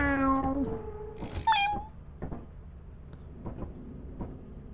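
A cat in the video game Lethal Company meows in a long, loud, drawn-out cry, then gives a short rising chirp, with faint clicks and a low hum behind it.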